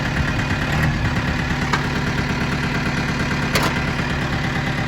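A tractor engine holds steady above 2,000 RPM in second gear while fertilizing a sand-based athletic turf field, a constant mid-low drone with a faint mechanical rattle and a couple of brief clicks.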